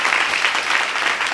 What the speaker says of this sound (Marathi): आता एकदा शेवटच्या जोरदार टाळ्या वाजवा.